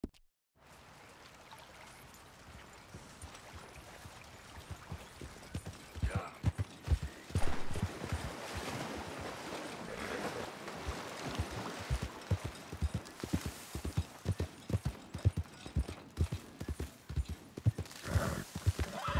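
Horse hooves clip-clopping in a steady trotting rhythm while riding in Red Dead Redemption 2, starting quiet and growing louder and closer, continuing evenly to the end.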